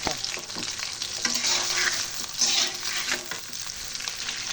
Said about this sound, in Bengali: ভালোভাবে চিংড়ি মাছ ভালোভাবে ভেজে নেব।